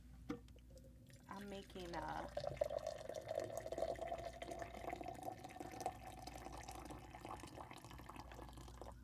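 Hot water pours steadily into a glass to make a drink, a continuous liquid stream under a nearby speaking voice.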